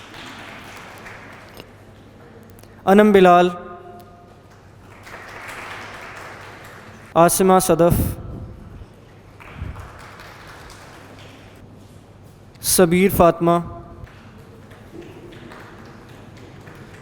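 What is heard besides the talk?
audience applauding certificate recipients at a ceremony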